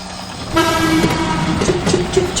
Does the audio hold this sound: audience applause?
no